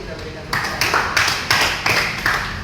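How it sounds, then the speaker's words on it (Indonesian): Classroom applause for a lesson, a few distinct claps spaced irregularly, sharp and close, small group rather than a crowd. "terima kasih kita berikan tepuk tangan"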